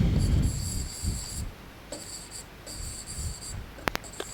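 Marker or chalk scratches across a classroom board in short strokes with pauses between them, fairly close but quiet, with a faint high electrical whine in the background.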